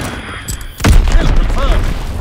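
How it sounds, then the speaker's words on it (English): An enemy bomb explodes in Call of Duty with a sudden loud, close boom, followed by a heavy rumbling roar that fills the rest of the moment. "Enemy bomb incoming."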